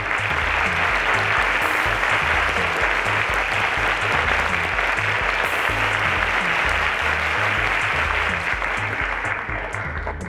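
Sustained loud applause from an audience honouring teachers at a school quiz competition awards ceremony, continuous and even throughout with a rhythmic low music beat underneath.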